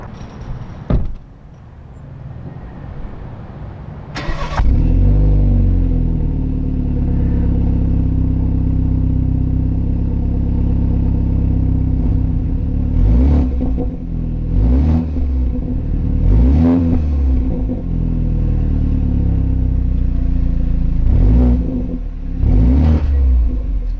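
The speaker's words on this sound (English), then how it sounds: "go ahead and start up the new BMW and show you what the exhaust sounds like" New BMW 4 Series coupe started up: a door thump, then the engine catches and settles into a deep, loud exhaust idle, punctuated by several sharp throttle blips, revving in rhythmic bursts close by.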